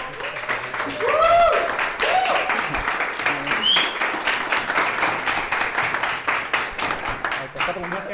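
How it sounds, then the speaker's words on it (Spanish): An audience at a talk on free trade zones applauds to welcome a speaker, a dense clapping wash that continues throughout while people speak briefly over it. "si podemos recibir con un fuerte aplauso a Andrés Barrientos ahora"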